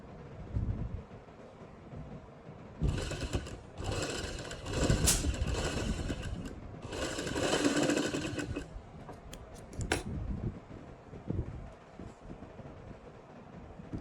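A sewing machine stitches fabric in several short whirring bursts separated by brief pauses, close and clear against a quiet room.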